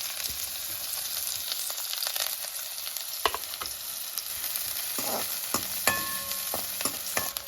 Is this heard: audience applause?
no